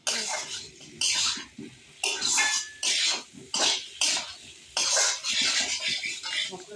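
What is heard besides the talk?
potatoes being stir-fried with spices in a pan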